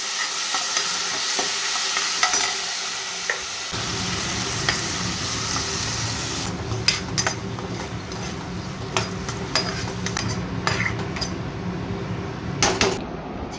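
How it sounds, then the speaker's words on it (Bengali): Boiled vegetables tipped into ginger paste frying in a pan at home, giving a steady close sizzle that grows busier as they go in, with stirring scrapes and light clatter of pot and utensil throughout. "এরপর এই যে আগে থেকে সেদ্ধ করা সবজিগুলো এর মধ্যে দিয়ে দেবো"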